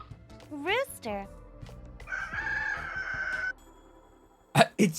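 A voice imitates a rooster crowing: short rising yelps, then a long held screechy crow, ending with brief loud vocal bursts.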